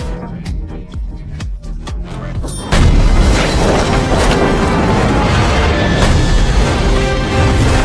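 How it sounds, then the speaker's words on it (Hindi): Tank cannon shells go off in an action film, Hindi-dubbed. Sharp booms come in a rapid series at first, then a sustained, loud, dense roar of blasts and debris follows. "फिर नीचे की ओर गोले दागे"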